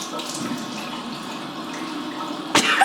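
Steady running water from a tap, a continuous broadband rush with a brief louder splash near the end.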